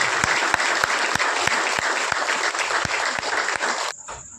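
A crowd at a Sarna religious prayer gathering in Chhattisgarh gives loud, dense applause to welcome a national religious teacher, sustained throughout before cutting off abruptly near the end.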